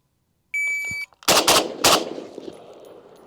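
Three loud, sharp FN FNC rifle shots fired in quick succession during a Mozambique drill, two close together then a third, each ringing out with echo, preceded by a steady electronic shot-timer beep.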